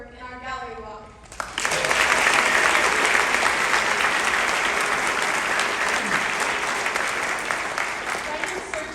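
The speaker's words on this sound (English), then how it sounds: "Please join me in an offering round of applause to all the people who shared their work in our gallery walk." An audience at a live performance breaks into a loud, sustained round of applause after a brief stretch of speech, the clapping staying full and even to the end.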